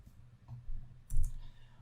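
Typing on a computer keyboard while coding in a game project, two brief clusters of quiet key clicks, close and soft against low room noise.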